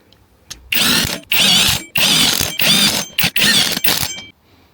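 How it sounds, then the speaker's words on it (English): Bolts being driven on a Kawasaki ZX9R motorcycle brake disc with a power tool, five or six close, loud whirring bursts of about half a second each, separated by short pauses. "New disc on. Let's get the bolts in."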